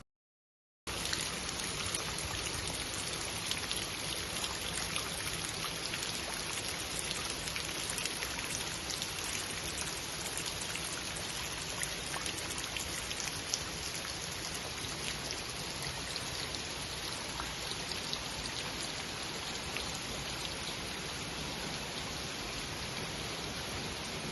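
Steady rain patters continuously on surfaces, a dense, even hiss of drops with no voices, holding constant throughout.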